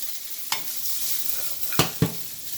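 Vegetables frying in a pan over heat, with a soft continuous sizzle and three distinct scraping stirs of a utensil, close up and with no talking.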